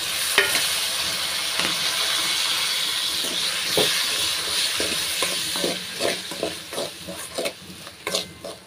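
Chopped tomatoes going into a pan of sautéed onion and garlic, with steady loud sizzling and hiss, then a series of sharper spoon stirs and scrapes toward the end.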